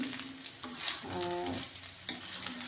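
Leftover rice frying in mustard oil, crackling and sizzling up close while a utensil stirs and scrapes the pan in quick strokes, with a couple of sharper clinks and no talk.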